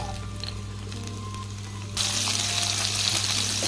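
Pirandai (adamant creeper) sautés in groundnut oil. A quiet kitchen hum gives way abruptly to a loud, steady sizzle and crackle that continues close up and without talk.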